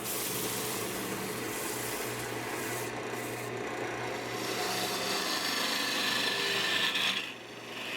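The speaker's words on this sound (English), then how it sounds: "And now I'm sanding. I sand from 220 down to 320 grit" Steady rasping friction of 220 to 320 grit sandpaper rubbing against locust wood on a lathe, continuous and moderately loud over a low mechanical hum.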